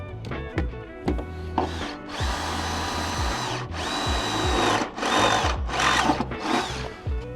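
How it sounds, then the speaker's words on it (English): A power drill whines in several bursts, each rising to a high steady pitch as it bites, then cutting off between holes drilled for nutserts on a diesel oil filter upgrade. "So I'm gonna go ahead and drill the holes and get those nutserts put in."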